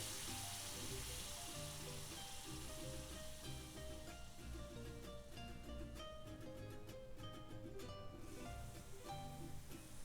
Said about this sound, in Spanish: Siempre mezclando, sin dejar de mover. Añadimos el pollo deshebrado.